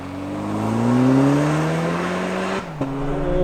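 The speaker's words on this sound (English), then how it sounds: "So let's try a 0 to 60. I'm going to line up here and we're just going to floor it." A 2025 Toyota 4Runner TRD Pro, rear-wheel drive, launched at full throttle from a standstill, its engine droning loudly and rising steadily in pitch up close, then a quick gear shift with a brief dip before the pull resumes.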